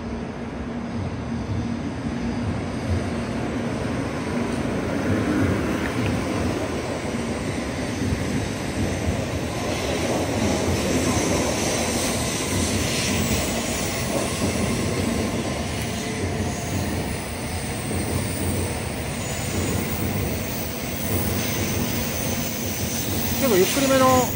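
A Nozomi Shinkansen bullet train pulls away from Okayama Station with a steady rising hum and rumble, continuous and fairly close, while a person talks over it.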